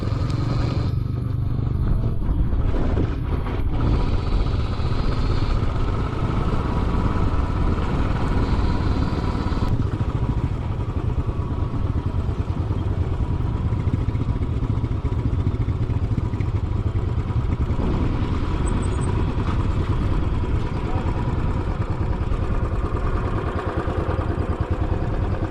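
A motorcycle engine runs steadily throughout, a continuous close, loud mechanical drone with some clatter early on and no talking.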